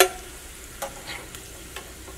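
Chillies frying in hot oil in a home kitchen, giving a soft, steady sizzle with a few scattered crackles and pops and no voices.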